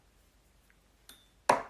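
A quiet room, then a soft click followed by a brighter electronic phone notification ping, short and near, with nothing else heard.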